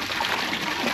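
Floodwater during Typhoon Uwan washes and splashes inside a flooded house, a brief, steady, close wash of moving water with no speech.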